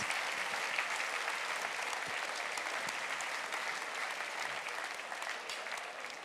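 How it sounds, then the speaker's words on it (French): Dense, even audience applause fills a mayor's summer dinner event, a steady wash of many hands clapping at once from the crowd, sustained without a break for about six seconds. "On peut les applaudir et leur souhaiter bonne chance."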